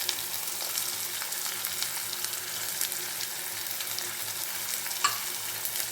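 Green chilies frying in hot oil for pumpkin dappalam: a steady, close sizzle and crackle with occasional stirring clinks, fairly quiet and without talk.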